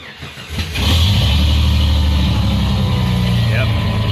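A car engine, a vehicle being tuned and data-logged for air-fuel ratio with HP Tuners, cranks briefly and then catches, settling into a loud, steady close idle that continues to the end.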